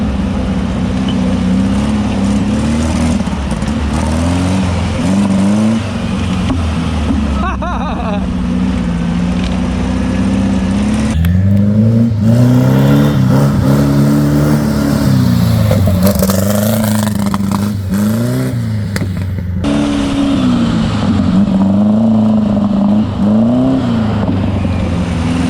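Volkswagen-powered sand rail with a carburetor in need of work, its air-cooled engine droning loud and close, revving up and down in uneven surges with brief lifts and a rough, unsteady idle between pulls.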